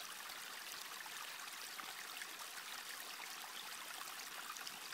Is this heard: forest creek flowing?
yes